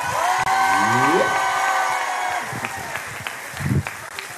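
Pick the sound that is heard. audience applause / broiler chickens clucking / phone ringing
audience applause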